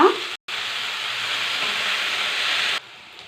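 Onions, green chillies and fenugreek leaves fry in a pan with a steady, moderately loud sizzle, cut off briefly near the start and dropping quieter at the end, with no voices.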